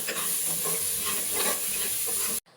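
Raw rice toasting in a pressure cooker pot while making khichuri, a steady close hiss and sizzle with stirring scrapes throughout, ending abruptly.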